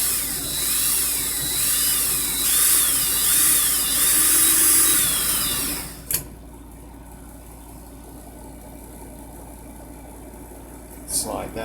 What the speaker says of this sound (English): Make sure my drill's in reverse.